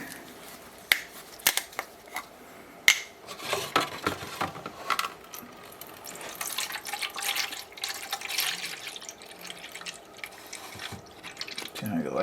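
Water is poured into a Premier Pets pet fountain up to just above the grating, a soft trickling splash mixed with light plastic clicks and taps, fairly quiet and close.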